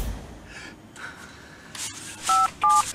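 A telephone is dialed in a few short touch-tone beeps, played alone after soft rustling and handling noises.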